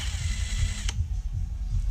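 Close, continuous high-pitched whine of a Dremel rotary tool with a sanding bit grinding corrosion off metal, with a low motor hum underneath and a brief click partway through.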